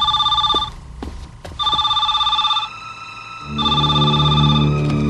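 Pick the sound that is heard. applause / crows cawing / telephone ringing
telephone ringing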